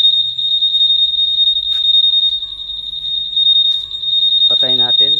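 Honda ADV160 scooter anti-theft alarm sounding a loud, sustained high-pitched electronic tone close by, with a voice cutting in briefly near the end.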